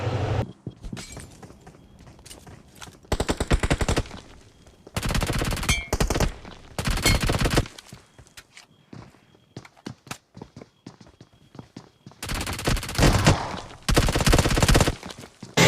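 Bursts of gunfire and explosions from a BGMI battle royale match, loud clustered volleys separated by quieter gaps with footsteps and shattering debris, no voices.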